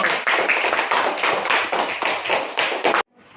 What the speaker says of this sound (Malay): Tepukan untuk kumpulan Uranus.